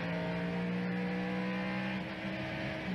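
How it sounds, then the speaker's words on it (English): A NASCAR race car engine at Richmond during the 1998 Exide NASCAR Select Batteries 400 holds a loud, steady droning tone throughout, with a strong low hum and a dense buzzing layer above it, heard up close. "listen to his engine."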